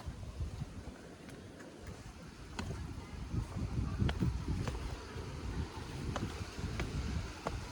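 Steady wind gusting and buffeting outdoors at Silver Strand beach, rising and falling in strength, with faint background rumble.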